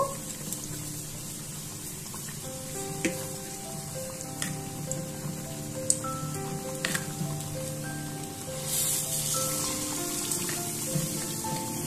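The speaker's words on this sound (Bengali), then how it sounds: "তেল ভালো করে গরম হয়ে গেছে ওর মধ্যে আমি ফ্রাই করে নেব" Homemade chops deep-frying in hot oil: a dense, steady sizzle and bubbling throughout, close and moderately loud, with scattered pops and a brief swell near the end.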